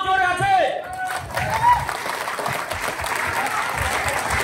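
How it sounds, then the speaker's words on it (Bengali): Audience applause at a business ambassador meeting in a Kolkata banquet hall, a dense steady clapping that fills the room for several seconds, with voices briefly audible at the start. "একবার জোরে হাততালি"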